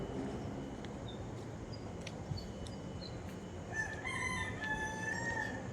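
A rooster crows a couple of times at moderate distance over steady outdoor background noise, with faint chirps from other birds.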